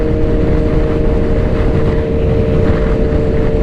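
A steady Suzuki Hayabusa motorcycle engine drone in third gear with a low rumble and a constant tonal hum, running continuously at close range with wind buffeting.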